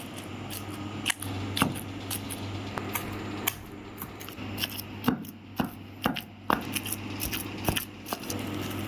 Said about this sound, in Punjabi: ਕੁੰਡੀ ਦੇ ਅੰਦਰ ਅਸੀਂ ਮਿਕਸਰ ਨੂੰ ਪਾਤਾ ਵਾ। ਹੁਣ ਅੱਛੇ ਤਰੀਕੇ ਨਾਲ ਅਸੀਂ ਪੀਸ ਲੈਣਾ ਵਾ।